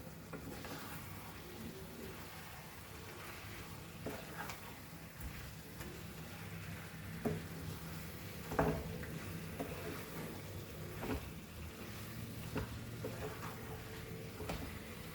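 Chicken do pyaza masala stirred in a pan for a dhaba-style curry: a low, steady sizzle with scattered spoon scrapes and soft knocks against the pan, fairly quiet throughout.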